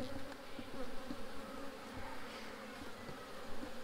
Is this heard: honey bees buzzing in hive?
yes